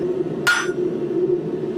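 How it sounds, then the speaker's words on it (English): A hammer strikes the forged steel point of a corkscrew once, a sharp, loud metallic blow standing out over a steady low workshop hum. "So we hammer on all 4 sides to keep them all nice and even"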